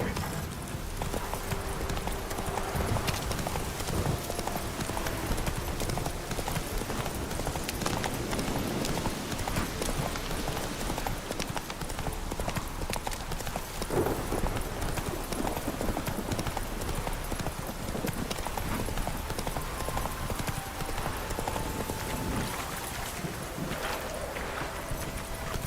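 A horse named Roach gallops in The Witcher 3: Wild Hunt, Hearts of Stone expansion, with fast, steady clip-clop hoofbeats running continuously over a dense game soundscape of wind and ambience.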